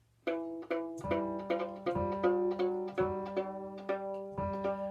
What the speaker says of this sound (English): I'm going to keep plucking the string, and as I push the peg, as I turn the peg